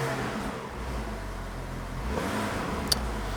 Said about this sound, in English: I'm gonna give it some gas now.